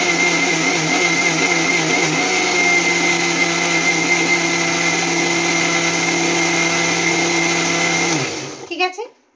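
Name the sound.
electric mixer grinder whipping mixture until frothy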